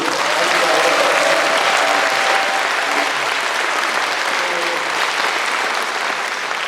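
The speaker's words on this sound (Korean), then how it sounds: "박수 소리가 여기서 제일 많이 나와서" An indoor audience at a Korean governor's town-hall meeting with citizens applauds steadily and loudly throughout, a dense continuous wash of clapping.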